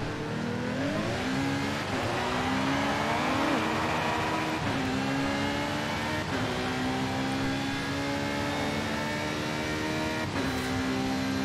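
A Ferrari drives past with its engine revving repeatedly, loud rising and falling whines that climb through the gears in a steady pattern, close and continuous, no talking.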